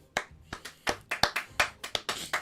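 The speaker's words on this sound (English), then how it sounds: "You gave yourself a round of applause" A lone person clapping for themselves on a live talk show, about a dozen sharp, close hand claps at an uneven rhythm with no other voices.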